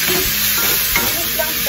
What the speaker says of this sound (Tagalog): pwede na natin ihulog iyong pusit